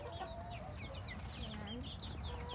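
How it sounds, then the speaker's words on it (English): Farm chickens clucking steadily at a moderate distance, with scattered bird calls above a constant outdoor hum; no one speaks. "here are our chickens that laid the eggs"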